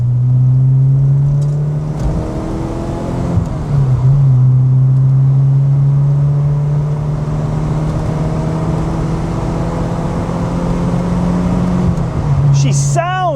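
Peugeot 205 GTI hot hatch engine while driving, a loud steady drone with a rise and fall in revs, heard from inside the car with road rumble underneath.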